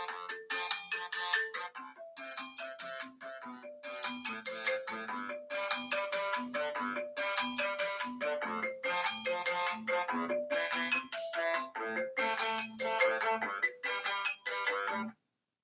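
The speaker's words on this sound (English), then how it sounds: "what do I do when my phone rings?" A phone ringtone plays a repeating melodic pattern in regular bursts, loud and clear for about fifteen seconds with no talking, then stops abruptly.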